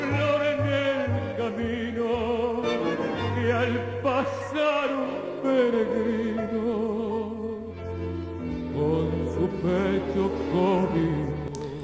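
A 1950s tango recording by a neighbourhood orchestra, with full ensemble playing steadily and densely for the whole stretch, mid-level and slightly dull in tone, with no voices.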